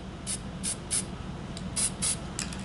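A spray paint can fires a series of short hissing bursts, about eight quick sprays close up in a rough rhythm, with no talking.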